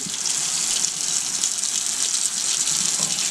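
Water pouring steadily into a pressure cooker for cooking gizzard and liver, a continuous close splashing gush with no break.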